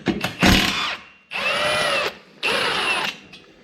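Power wrench spinning bolts off a Polaris XP trailing arm: three loud, close whirring bursts, each lasting about a second, separated by short pauses, with no talking.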